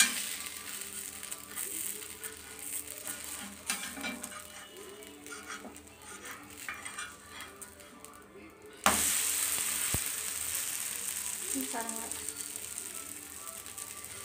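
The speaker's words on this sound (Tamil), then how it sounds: "இந்த தோசை திருப்பி வைக்கிறோங்க" A dosa made with curry leaves and betel leaves sizzling steadily on a hot pan, a sharp scraping clatter marking the flip partway through, then the frying hiss continuing loud and close.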